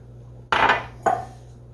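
Two quick clinks of a fork against a bowl while whisking eggs with half and half and melted butter, separated by a short pause and heard close up with no talk.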